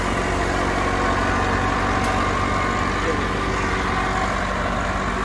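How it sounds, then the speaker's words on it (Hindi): An overheated tractor at a wheat harvest runs steadily while water is poured over it to cool it, giving a constant dense broadband engine rumble with no breaks. "अभी देखें ये ट्रैक्टर जो है ना वो चल चल के गर्म हो गया, उसको ठंडा किया जा रहा है"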